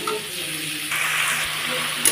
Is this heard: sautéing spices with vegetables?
yes